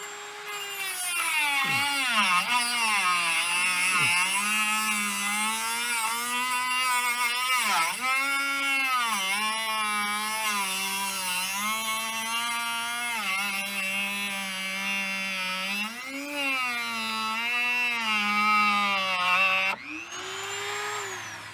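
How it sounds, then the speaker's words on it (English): A Dremel rotary tool grinds on the rusty parking brake drum of a Jeep TJ, a loud steady high-pitched whine with pitch dipping and recovering as it bites into the metal, running continuously for about twenty seconds. "Let's not drop a moving Dremel on my face."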